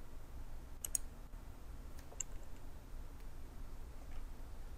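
Computer mouse clicks during Autodesk Inventor CAD work, a few sparse, faint, sharp clicks spaced irregularly against a quiet background.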